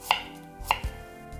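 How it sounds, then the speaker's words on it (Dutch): Knife chopping onions into small pieces on a cutting board, two sharp crisp chops heard close and alone with a faint soft thud between. "Uien snipper ik in kleine snippertjes."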